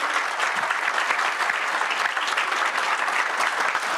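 Audience applause at a cover launch event, steady and dense clapping from a sizeable crowd heard alone at an even level throughout.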